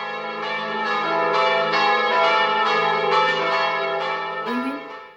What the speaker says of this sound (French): Et oui, c'était la cloche.